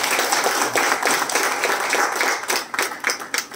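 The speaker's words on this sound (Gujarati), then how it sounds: "પહેલા તો આપણે તાળીઓથી વધાવી લઈએ" Applause from a lecture-hall audience welcoming the speaker at a memorial lecture series, dense steady clapping that carries on for a few seconds before thinning into scattered claps near the end.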